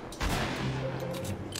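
Gunfire in Fortnite, a dense burst of rapid shots running continuously for the whole stretch, loud and close, with no talking over it.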